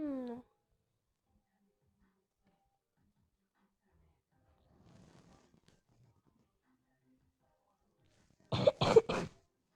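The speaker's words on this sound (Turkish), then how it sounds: "Ay kim öksürdü?" A single short cough near the end, loud and close, after long near-silence with a faint rustle in the middle.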